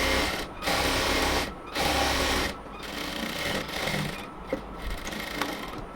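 Sewing machine stitching a seam on a salwar pant, running in steady bursts of rapid mechanical whirring separated by short pauses, close and fairly loud.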